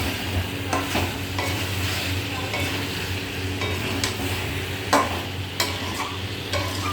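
Chicken being stirred and fried in a pan for a home-style curry, a steady sizzle broken by regular scraping strokes and occasional clinks of the spatula, close and loud with no talk.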